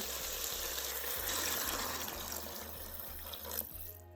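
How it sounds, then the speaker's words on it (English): Warm water pours steadily into a soup pot holding chicken, potatoes and carrots for a one-pot coconut curry chicken soup, a continuous, fairly quiet gushing stream with no talk. "We're gonna come in with some warm water."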